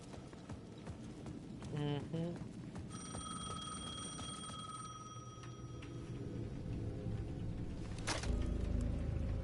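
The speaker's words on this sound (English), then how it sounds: "The payphone at the edge of the plaza was ringing again." A payphone rings at the edge of a plaza in the video game Alan Wake 2, a steady electronic bell tone sustained for several seconds amid ambient game noise and footsteps.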